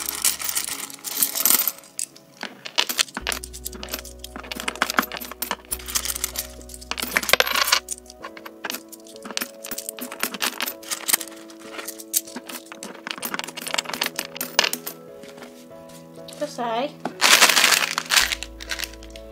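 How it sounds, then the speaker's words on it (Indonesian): Coins dropping one after another into a piggy bank, a long run of bright metallic clinks and rattles, near and fairly loud, with tonal music steady underneath and no talk. "uang koin ini akan kita masukkan ke celengan kita"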